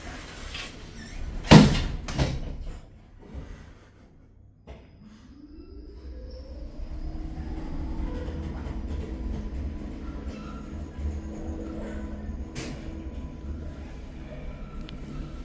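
Lift doors at Cabot Place, Canary Wharf, slide shut with a few sharp knocks and thuds, then the car starts descending with a rising motor whine and steady hum, a clear clunk partway through.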